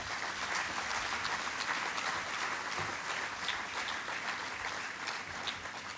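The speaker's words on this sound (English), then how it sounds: "I want you to give yourselves a lusty round of applause." Audience at an official ceremony unveiling a commemorative Golden Jubilee EC$50 banknote gives a sustained, even round of applause, dense clapping filling the whole stretch without talk.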